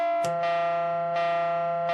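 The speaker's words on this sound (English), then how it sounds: "Even more of a bell sound." Three bright synthesized bell strikes ring out with a soft, hollow triangle-wave timbre, each decaying slowly over a steady sustained tone.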